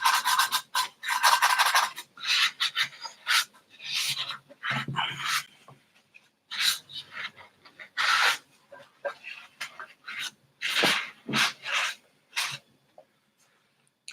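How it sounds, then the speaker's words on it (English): Hand sanding of a cosplay prop, a dry raspy rubbing in short bursts of strokes with gaps between, close up and fairly loud, no speech over it. "I was sanding a little bit earlier"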